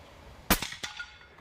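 An Alfa Precision Kruger 5.5mm PCP bullpup air rifle fires a single pellet with one sharp crack, followed by a quick metallic clatter and a second smaller impact, close and otherwise quiet.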